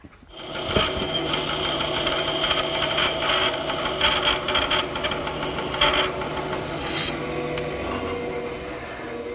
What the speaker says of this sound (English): I'm smoothing up all the edges, rounding over any sharp edges with a variety of sanders